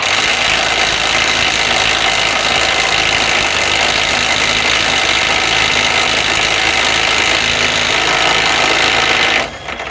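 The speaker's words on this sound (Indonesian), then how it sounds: "Sebuah impact ring yang kecil ya, tetapi bisa membuka sampai 400 Nm." A small DOLIZ BD550 impact wrench loosening a nut hammers in one loud, continuous rattling burst for nearly ten seconds, close up, then stops abruptly at the end.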